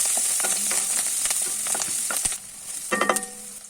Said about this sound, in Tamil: இதெல்லாம் சேர்த்ததுக்கப்புறமா வெங்காயத்தை நல்லா வதக்கிடலாம்.